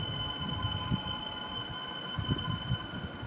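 A metro subway train rolls past in the Roblox game Exit 8, a steady low rumble with rhythmic wheel thumps and a faint high squeal, heard alone and up close.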